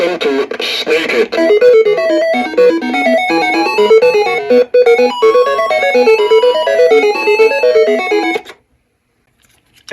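Bright, bouncy chiptune melody from the built-in MSX game Snake It plays loud and continuous for about eight seconds, beeping notes stepping up and down, then cuts off abruptly into silence.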